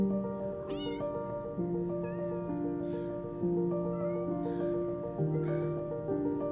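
A small cat trapped beneath a road meows repeatedly in thin, rising cries over a steady, layered musical backdrop with sustained tones, with no one talking.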